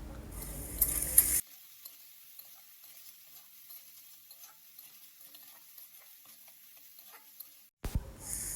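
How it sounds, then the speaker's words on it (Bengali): Crisp-fried potatoes with Kashmiri chili powder are stirred in a pan: a loud burst of sizzling and scraping at the start, a long near-quiet stretch, then another short burst of stirring at the end. "এখন কিন্তু আলুগুলো মশলাটার সাথে খুব ভালো করে মিশিয়ে নেব"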